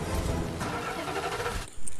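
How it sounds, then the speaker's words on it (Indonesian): Car engine sputtering and cranking in a film scene set in heavy rain, with a rough motor rumble that cuts off abruptly, followed by a brief sharp sound. "mobil Mia tiba-tiba mogok di tengah jalan"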